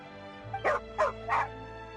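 Three short dog barks from a dog in Genshin Impact, coming in an even rhythm over a steady low game hum, fairly close and clear, with no talking.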